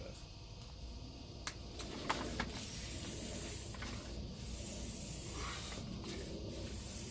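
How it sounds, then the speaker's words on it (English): Air is pumped into a bicycle inner tube, and a continuous hissing rush of air runs throughout with a few faint clicks, close by and moderately loud, with no one speaking. "Pull it out, pump it up, figure out where the air is coming out of."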